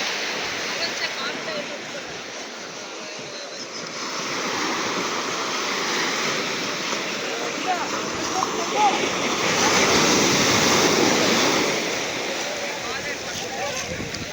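Continuous roar of sea waves breaking on a beach, the sea pushed far up the shore, swelling louder toward the middle and end, with wind rushing across the microphone.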